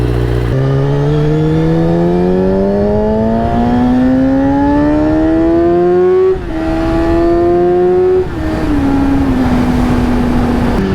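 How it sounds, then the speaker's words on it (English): A car engine idling high, running loud and steady with a rising and falling whine that climbs gradually and dips twice, heard up close with no talking. "It's definitely idling higher than it needs to be right now."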